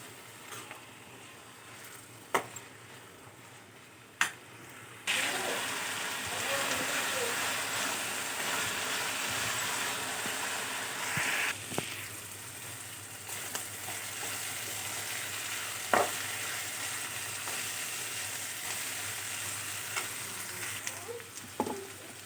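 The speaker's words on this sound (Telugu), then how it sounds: "అదే నూనెలో మనం ఇప్పుడు కట్ చేసుకున్న దొండకాయ ముక్కల్ని వేయించుకోవాలి." Cut ivy gourd pieces fry in hot oil with a continuous, dense sizzle, broken by a few sharp clicks and clatters of a utensil, close and unbroken with no voices.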